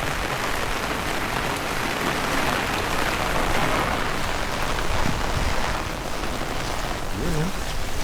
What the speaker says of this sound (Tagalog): Maulan ang umaga ngayon.